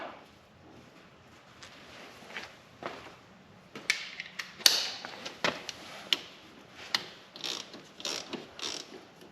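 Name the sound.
ratchet tightening the fill plug on a Honda TRX250X ATV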